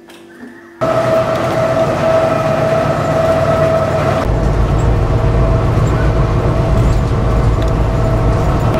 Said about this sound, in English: Train is coming into Laurel.